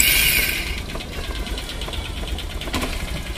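A Hero Impulse motorcycle engine idling in neutral after a full service, with a low, even putter and faint knocking pulses, heard up close with no talking.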